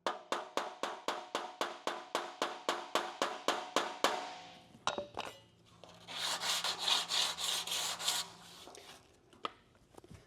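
Hand sanding across a dented aluminum grill from a C10 pickup: a steady run of about twenty quick, even rasping strokes, then a pause, a few knocks and a longer stretch of harsher scraping, close and alone.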